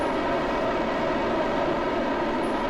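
A rocket engine in Kerbal Space Program burns during a moon landing, a loud, steady, unbroken roar that holds throughout.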